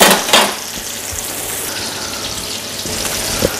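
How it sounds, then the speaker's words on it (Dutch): Ground beef sizzling in margarine browned until its foaming settles, a dense, steady crackling fry after a louder initial hiss as the meat hits the pan, close and continuous without speech. "En daar gaan we het gehakt in bakken, braden."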